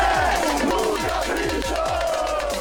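Crowd of fans at Interlagos racetrack for the São Paulo Grand Prix, a massive rhythmic chant in waves with repeated beats, loud and continuous with voices blending into one roar.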